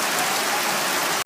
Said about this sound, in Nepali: पानी भयानक रूपमा परिरहेको छ